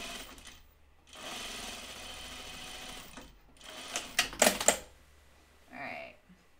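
A home sewing machine runs a long steady stitch past a dress seam, stops, then gives several short clattering bursts and a brief final whir, close and loud, with occasional talk between.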